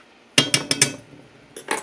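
A fork's flat edge scrapes and taps at browned bits in an old non-stick pan while chuck pot roast is made, giving four quick metallic clinks, a pause, then two more, close and fairly loud.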